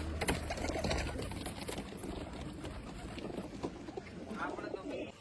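Pigeons coo softly close by over a mechanical whir, with a faint voice in the background.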